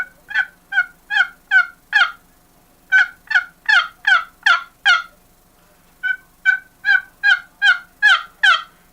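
Scratchy turkey yelps from a wooden box call, in three quick series of five to seven raspy notes separated by short pauses, loud and close.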